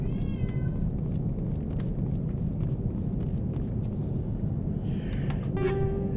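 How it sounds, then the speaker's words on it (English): A domestic cat meows twice, once briefly at the start and again more clearly near the end, heard over a steady rumbling game soundtrack. "I think I hear my cat."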